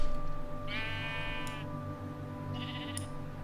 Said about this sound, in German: Das sind überall nur Schafe.